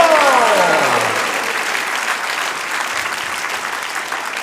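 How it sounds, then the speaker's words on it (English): A large audience at a Gita Jayanti festival gathering at Bhaktivedanta Manor bursts into loud, dense applause and cheering that gradually tapers off over several seconds, with a fading shouted voice at the start. "please, a big loud cheer and Haribol for all our participants"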